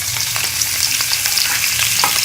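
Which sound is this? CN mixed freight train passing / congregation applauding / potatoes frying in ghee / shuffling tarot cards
potatoes frying in ghee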